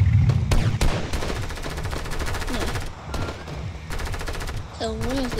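Gunfire in the Fortnite video game rattles in fast, loud automatic bursts over layered game sound effects, with short pauses between volleys.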